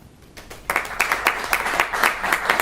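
Thin, scattered applause from a small audience at an evening business event, starting after a short quiet moment and continuing as a light, sparse patter of claps.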